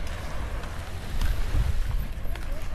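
Sea waves at San Miguel, a continuous low rumble of surf with gusting wind buffeting the microphone, loud and close.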